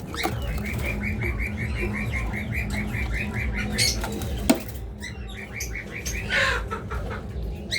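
Small caged birds, including green opaline ones, at a bird seller's chirp in quick rhythmic runs of repeated notes, with a sharp knock partway through and a busy aviary hum beneath.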